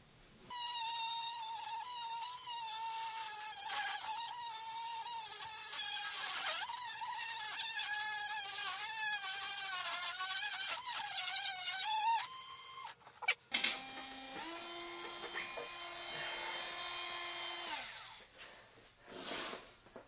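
A Hyper Tough rotary tool cutting through a bolt: a high, wavering whine that rises and dips as the cutting wheel loads and frees, then shifts abruptly to a steadier lower pitch before fading, with no speech.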